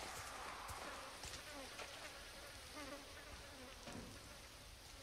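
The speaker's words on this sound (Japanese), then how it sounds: "さっきから、ハエがブンブンブンブン言ってる音がすっげえ聞こえてくんだよな。" Flies buzzing in the horror video game Resident Evil 4 remake, a steady faint insect drone with wavering whine layered over dense ambient game noise throughout.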